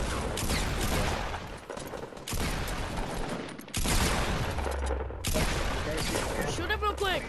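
Rapid bursts of gunfire from a Fortnite-style battle game, dense and continuous with short gaps, loud and close throughout, with voices talking over it.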